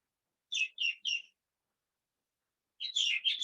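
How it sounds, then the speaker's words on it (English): Birds chirping nearby, three short clear tweets followed by a pause and then a quicker, busier cluster of chirps, heard alone against silence. "I too just love the chirping of birds."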